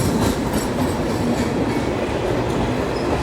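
The Bangalore Rajdhani Express rushes past at close range in a dense, steady roar of rolling wheels and rattling coaches, with faint rhythmic clatter and no voices.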